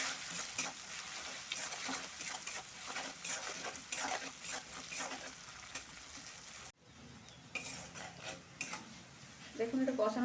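Spiced eggplant being stirred and sautéed in a pan with chilli powder, a steady frying sizzle with scraping stirs throughout, briefly dropping out midway before resuming louder.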